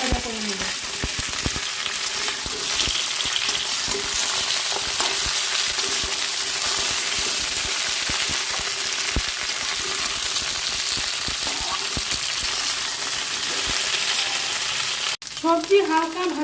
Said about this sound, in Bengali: দিয়ে একটু ভাজা ভাজা করে নেব